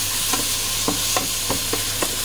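Beef sautéed Japanese style, sizzling loudly in a hot pan, with a steady crackling hiss and regular scraping strokes as it is stirred, close up with no talking.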